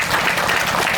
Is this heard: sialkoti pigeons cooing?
no